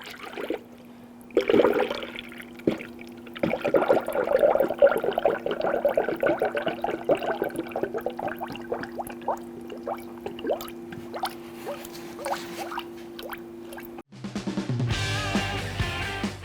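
Coolant poured through a clean funnel into the radiator of a 2011-2014 Kia Sorento, a steady close gurgling pour with a low hum underneath, ending abruptly before a different sound takes over.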